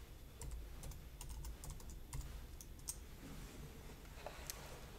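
Someone types a password on a Mac computer keyboard in short, quiet bursts of light key clicks, a few quick taps then brief pauses, close up with no talking.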